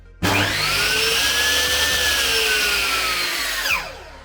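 A Ronix 5603 table circular saw starts abruptly, runs idle with a loud steady whine and no cutting, then begins to wind down near the end.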